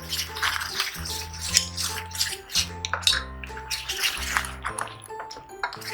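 Besan flour being mixed with water into a thick batter in a bowl, with wet stirring and clinking against the bowl in a steady rhythm, close up, over a tonal background sound.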